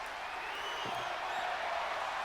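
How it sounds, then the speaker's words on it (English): Constant roar of a wrestling arena crowd in the WWE 2K24 video game, a dense, even wash of cheering and applause with a faint voice briefly rising beneath it. "The crowd wants tables, everybody."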